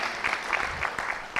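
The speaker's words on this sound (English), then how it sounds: "Can we please have a big round of applause for our panelists?" A symposium audience on gut health claps for the panelists, a short burst of moderately loud applause with distinct individual claps audible within the patter.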